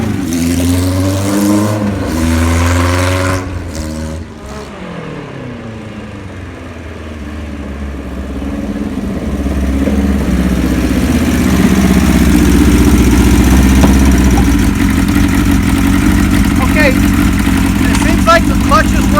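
A 1976 Kawasaki KZ900 motorcycle engine, freshly fitted with a new cam chain and gaskets, revs a few times, then settles into a steady, loud close-up idle with a voice speaking over it.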